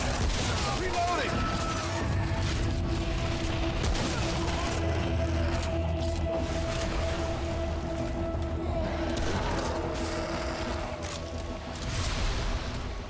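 Gunfire in the video game Remnant From The Ashes thuds and booms through a dense, constant layer of game noise and music, with scattered shots throughout.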